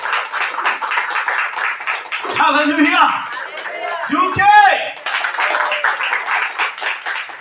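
Church congregation clapping hands together, a dense burst of applause that opens the passage, breaks off while a voice calls out, then resumes loudly and steadily to the end.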